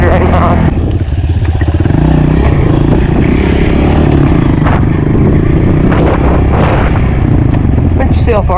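Honda pit bike engine running loud and close throughout while being ridden on a dirt track, a steady buzzing drone with rising and falling revs.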